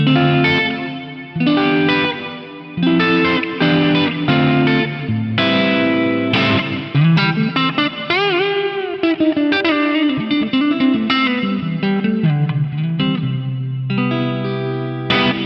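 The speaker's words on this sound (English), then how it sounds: "So now I've got chorus from the FM9 on reverb from the plugin on my computer." Electric guitar playing chords and a melodic line through a shimmering chorus effect with spacious reverb, loud and continuous.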